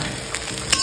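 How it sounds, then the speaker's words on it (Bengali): Potatoes and onions frying in a pan give a brief, steady close sizzle with a couple of small stirring clicks, alone and without talk. "এই যে আলু পেঁয়াজ ভাজা হচ্ছে"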